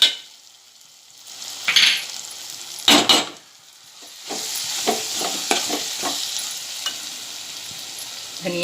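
Turmeric and masala frying in a pan, a hiss that builds after a couple of louder scrapes and clatters, then settles into steady sizzling with intermittent stirring strokes up close.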